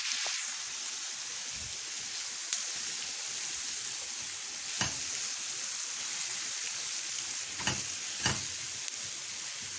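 Onions salted in a pan frying with a steady, even sizzle throughout, with a few sharper crackles and pops standing out; no talking.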